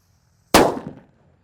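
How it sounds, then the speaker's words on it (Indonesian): A thunder firecracker explodes beneath a plastic water cup in a single sharp, loud, close bang with a short crackling decay, alone in quiet surroundings. "ini ada mercon petir guys. Ini yang beledosnya menggelegar"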